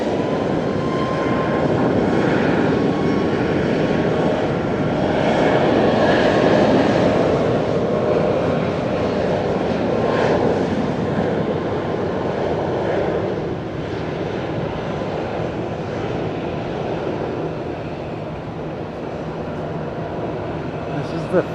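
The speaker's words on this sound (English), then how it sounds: "The first Skymark Max aircraft I've seen, so it must be pretty new." A Skymark Boeing 737 MAX at Fukuoka Airport produces a broad, steady jet roar that fills the whole stretch, easing slightly toward the end, with faint voices underneath.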